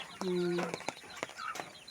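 Chickens clucking while being fed corn at feeding time on a home farm, short bursts of clucks and a brief call over quiet background, with someone talking nearby.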